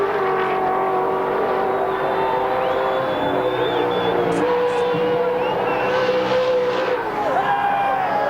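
Crowd cheers ring across the top of the mountain at Bathurst as Dick Johnson's big V8 race car accelerates, its engine note rising and blending with the steady roar of spectators, loud and continuous throughout.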